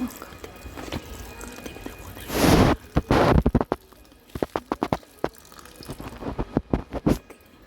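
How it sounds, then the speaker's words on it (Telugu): Water is poured out as an offering during a Karthika Purnima morning puja, a splashing gush followed by scattered drips and trickles, close by. "నీటిని సమర్పిద్దాం"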